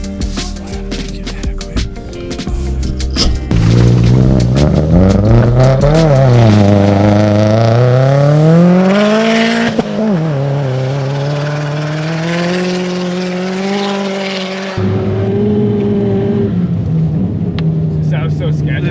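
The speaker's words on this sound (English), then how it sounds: "He's making some speed." A lifted Subaru STi pushes through deep backcountry snow, its engine loud and close, revving and surging with rising and falling pitch as it gains speed, with people talking over it.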